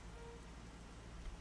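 Rain falls in the Imperial City of the video game Oblivion as a soft, steady hiss with a faint patter. It stays even throughout, quiet and with no talking.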